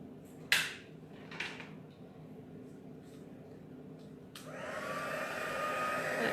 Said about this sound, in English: My heat tool doesn't quite reach where I am at the table.